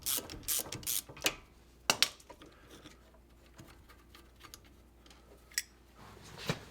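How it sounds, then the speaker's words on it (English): Ratchet wrench backing off the two 13mm bolts holding a Vanagon front brake caliper to its bracket, giving a few quick clicking bursts followed by quieter metallic handling, close and alone. "take these two 13mm bolts off that support the caliper on the bracket"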